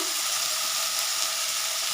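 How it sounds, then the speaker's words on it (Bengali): Panch phoron and bay leaf sizzle in hot oil for a fish curry tempering, a steady, close, loud crackling hiss that runs without a break. "মাছের মাছ ভাজা হয়ে গিয়েছি পাঁচফোড়ন দিয়ে দিয়েছি এবারে দিয়ে দেবো তেজপাতা"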